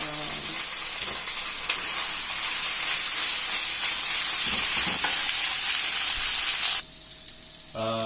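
Rice dries and fries on a hot pan, a loud steady sizzle with steamy hiss and faint scraping, cutting off abruptly near the end into quieter background.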